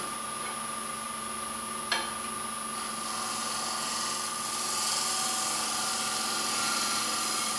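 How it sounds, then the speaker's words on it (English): A wood lathe spins steadily while a tool held on its side shear-scrapes the rim of a wooden kuksa cup, giving a continuous high whine with a hissing scrape that grows slightly louder, plus one sharp tick near the start. "so I'm getting a shear scrape"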